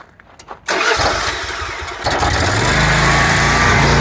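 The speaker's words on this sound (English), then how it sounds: "We'll go ahead and fire up the generator." A spray foam rig's generator, part of a Graco E20 setup, cranks and catches, then settles into a loud, steady running drone with a second surge about two seconds later.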